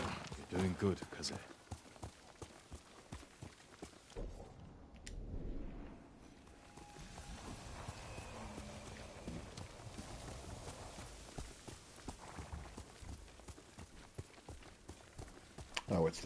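Rhythmic hoofbeats of a galloping horse thud steadily across the scene, with a voice talking over them and ambient game sounds in the background, from the video game Ghost of Tsushima.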